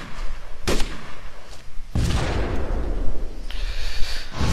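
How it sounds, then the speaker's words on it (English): A frag grenade detonates in ARMA 2 with a sharp, loud blast, then a second heavier boom that rolls into a long rumbling tail, with further distant cracks of gunfire. "Throwing a frag. Frag out."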